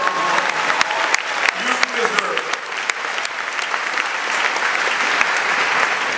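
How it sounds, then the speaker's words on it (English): Graduates applaud themselves at a college commencement, a loud, dense burst of clapping that builds and then holds steady, with a voice briefly audible early on. "Go ahead and clap for yourself."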